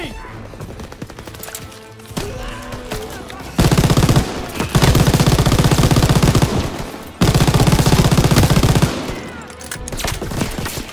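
Heavy automatic machine gun fire in the video game Call of Duty: WWII, long sustained bursts, loud and close, with shorter scattered shots and battle noise in the pauses between.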